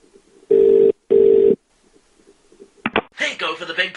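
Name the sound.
telephone ringing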